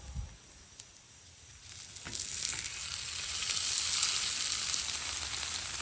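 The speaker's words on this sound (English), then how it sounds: "Now we're going to throw down our sausage." Sausage hits a hot Blackstone griddle, starting with a faint sizzle that swells into a steady, close frying hiss with light crackles.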